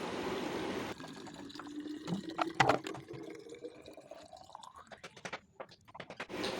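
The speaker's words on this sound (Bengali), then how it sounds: "তারপরে সবজি জলের ভিতরে একখানা করে জলে ঘুরে নিলাম" Vegetables swirled by hand in a container of water, giving irregular close sloshing and trickling splashes with small clinks, moderately quiet and without talk.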